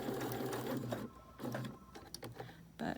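Sewing machine stitching a curved seam on a fabric face mask, running in steady bursts with short pauses between, close and fairly loud with no talking.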